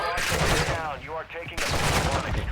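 Gunfire in Call of Duty Warzone 2.0 DMZ, loud sustained bursts of rapid shots that dip briefly mid-clip and return, close-up and dense.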